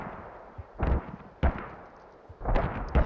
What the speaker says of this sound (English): we're just going to be seeing a mortar fight at this point